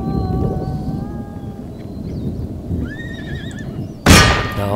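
Horses neigh in the Empire: Total War video game, several whinnies rising over a dense, rumbling battlefield din, followed by a sudden sharp crash near the end.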